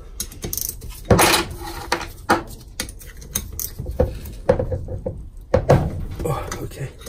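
A ratchet works loose 10mm bolts on the turbine side of an Audi Q5 turbo, heard as bursts of clicking and metallic knocks at close range, irregular and separated by short pauses.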